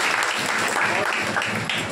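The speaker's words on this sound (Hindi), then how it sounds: "एक बार गुरुदेव के नाम की तालियां होती हैं।" An audience at a Ramayana recitation gathering claps together for the guru in a sustained, dense round of applause that holds steady throughout.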